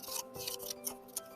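Scissors snipping paper bingo squares for a craft, a quick run of crisp close cuts and rustling strokes, alone with no talking.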